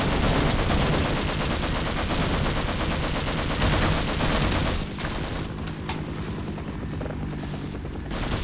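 Heavy gunfire in the Half-Life video game, rapid continuous shots layered over a loud helicopter-like rotor drone, thinning out toward the end with a few scattered bursts and no talking.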